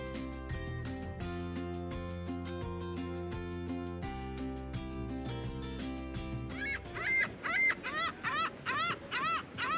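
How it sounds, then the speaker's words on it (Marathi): Seagulls calling at Pinery beach in Pinery Provincial Park, Canada. A run of quick, repeated, rising-falling cries comes in near the end, after and over steady background music. "कॅनडामध्ये ज्या ठिकाणी खूप मोठ्या प्रमाणात पाणी आहे त्या ठिकाणाच्या जवळ हा सीगल पक्षी नेहमी आपल्याला पाहायला मिळतो."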